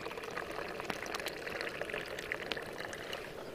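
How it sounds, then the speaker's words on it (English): Coffee pours onto oatmeal at a mountain campsite during a canoe trip, a close, steady liquid splash and trickle that runs for a few seconds with faint outdoor ambience behind it. "Should I just water your oatmeal down with the coffee?"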